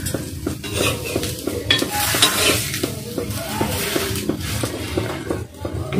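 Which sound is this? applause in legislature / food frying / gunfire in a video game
food frying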